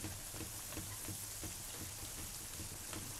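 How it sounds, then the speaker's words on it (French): Potato pieces deep-frying in a pot of oil while being stirred, a continuous dense crackle and sizzle with fine popping, fairly faint and steady throughout with no voices. "Il faut absolument que la friture couvre tout le temps les pommes et qu'elle remue pour que l'huile passe entre chacune"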